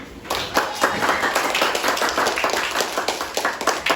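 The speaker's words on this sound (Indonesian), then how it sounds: "Oke, beri tepuk tangan." A classroom full of students claps together, a dense, steady burst of applause lasting several seconds at close range, with no talk over it.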